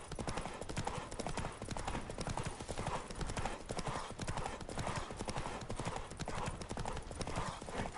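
Rapid, rhythmic hoofbeats of a galloping horse in The Witcher 3 on PS5 pound steadily throughout, a game-like clip-clop with no talking over it.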